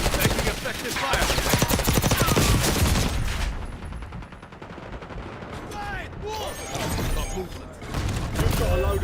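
Video game gunfire crackles in dense, rapid bursts, loud and continuous at first, then thins to scattered shots and sharp impacts, with a second heavy volley near the end.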